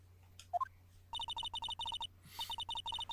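In the game Ace Attorney, a phone rings after a redial: a soft dialing blip, then repeated rapid double-pulsed electronic ring bursts in a steady pattern, clear and fairly close.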